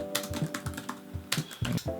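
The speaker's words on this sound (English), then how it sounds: "Grace, I'm typing." Close, rapid typing on a computer keyboard in a home editing setup, with irregular clusters of crisp key clacks and a few heavier thumps, with no talking.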